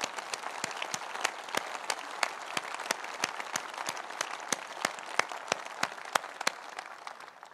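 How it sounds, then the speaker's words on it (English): Applause rolls through the hall at the Conservative Party Conference 2017 during a speech by the Health Secretary. Crisp, rhythmic claps stand out sharply over a steady crowd clatter for over seven seconds before tapering off. "Let's give a big round of applause to all those trusts in special measures."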